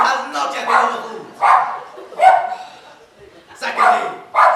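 A dog barks in a series of loud, close, yelping barks spaced about a second apart, with voices mixed in around them.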